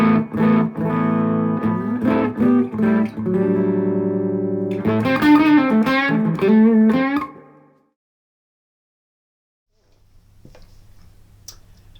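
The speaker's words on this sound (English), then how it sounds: "Now I've got the amp set so that it's no longer clean, it's starting to go but not fully into overdrive yet, and that bass tone sounds like this." Bass tone played through a Cornell Romany 12 tweed valve amp set just on the edge of overdrive, with sustained slightly gritty notes and short phrases played close and clear, then a sudden stop into near silence with faint noise.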